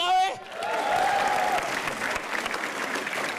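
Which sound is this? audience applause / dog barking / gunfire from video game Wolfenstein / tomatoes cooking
audience applause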